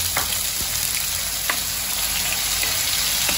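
Ground masala paste fries in hot oil in a pan for a Maharashtrian patodi rassa curry. A steady, close sizzle carries on throughout, with occasional soft stirring clicks.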